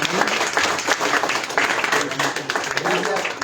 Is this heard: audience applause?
yes